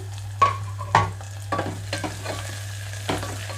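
Onions fry in a pan for a raw banana gravy curry, with a constant low sizzle broken by several sharp scraping stirs of a spoon against the pan, close and clear.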